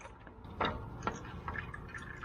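Motor oil drips from a freshly removed oil filter on a Branson 20 series tractor during a 50-hour service, a few soft, close drips and splats standing out over a quiet background.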